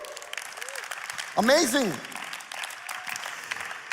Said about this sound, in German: lasst uns doch diesen Leuten online, wo auch immer, einen Applaus geben